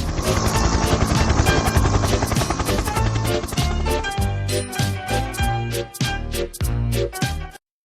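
Cartoon helicopter buzzing loudly while hovering near an airfield, waiting to land, mixed with jingly children's music that plays continuously before cutting off abruptly at the end.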